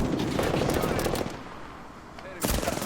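Loud, close automatic gunfire in a video game, rattling in fast continuous bursts that ease off briefly before another burst, with a voice mixed in.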